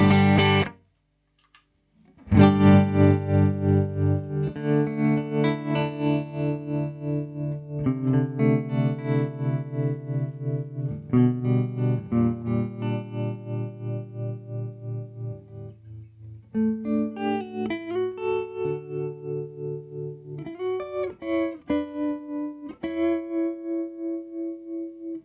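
A Les Paul guitar with humbucker pickups played through a Hotone XTOMP effects pedal, heard as a long run of chorused, distorted notes and chords with steady pulsing modulation, loud and without talk, after a brief opening strum and pause.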